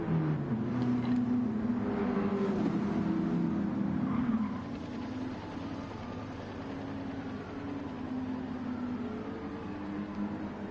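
A pack of NASCAR Cup cars rumbling together through a formation lap at Watkins Glen in a racing game, loud layered engine drone that eases slightly midway and carries on steadily.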